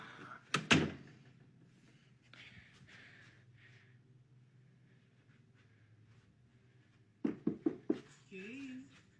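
A door in a horror video opens amid sparse sharp knocks and thuds and faint voices, with a quiet stretch in the middle and a burst of several quick knocks near the end.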